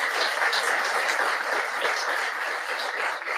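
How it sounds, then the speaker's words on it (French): An audience applauds a prize winner at a Senegalese awards ceremony for laureates and finalists, sustained clapping at moderate level throughout, without talk. "On l'applaudit très, très, très fort"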